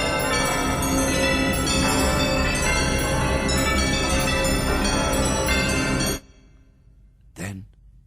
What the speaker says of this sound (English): But soon it rang out loudly, and so did every bell in that huge empty house.